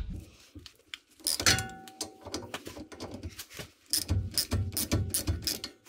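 A 13 mm socket wrench ratchets on a rear brake caliper bolt of a Peugeot 307 HDi, a series of close, quick clicking bursts alongside metallic clanks and handling noise, with no speech.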